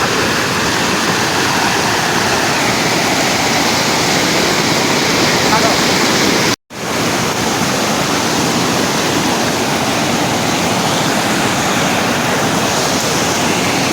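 Mountain stream water rushing down a forested hillside during rain, a loud continuous broadband roar close by, briefly cut off midway before resuming.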